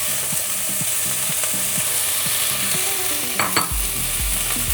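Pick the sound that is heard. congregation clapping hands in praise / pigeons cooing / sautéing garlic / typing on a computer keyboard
sautéing garlic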